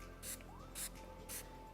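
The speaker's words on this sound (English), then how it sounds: "This is a fixing spray that will fix for all day your makeup." Makeup fixing spray, a rose-water setting mist, is sprayed three times at an even pace, each a short soft hiss close by in a quiet room.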